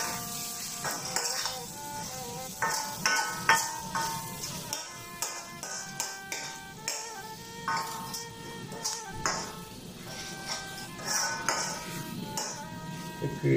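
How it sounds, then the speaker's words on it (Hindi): Spoon stirring qeema masala in a pan, with repeated metallic clinks and scrapes against the metal in an irregular rhythm over a soft sizzle, close and fairly quiet throughout. "अच्छी तरह से मिक्स कर लें"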